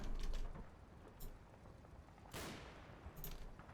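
Faint, distant bursts of gunfire from the WWII Normandy strategy game Combat Mission: Battle for Normandy, a few scattered shots and short volleys over a low, steady background.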